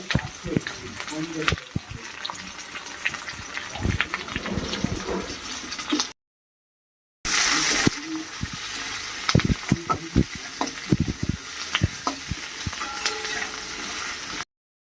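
Chopped capsicum sizzles and crackles in hot oil for egg chilli while a spatula stirs and scrapes the pan, a continuous close frying hiss with a short silent break midway.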